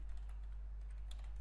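Typing on a computer keyboard, faint quick key clicks tapping irregularly over a steady low hum.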